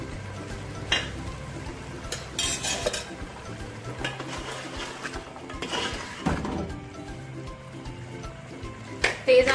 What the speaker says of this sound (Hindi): तेज आंच में इनको अच्छी तरह भून लेंगे।